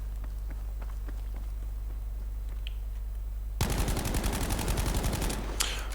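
Submachine gun in Battlefield V fired without recoil control against a wall, a loud, fast continuous burst of rapid shots starting partway through after a quiet stretch of faint ambient noise and footsteps.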